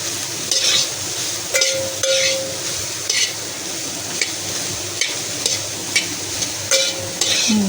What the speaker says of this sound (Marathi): आणि ते सोयाबीन आहे ना जरा परतवायचे, खालीवर करायचे.